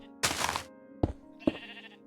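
Minecraft sheep bleat in a barn, one long bleat followed by two shorter ones, close and clear over a low background hum.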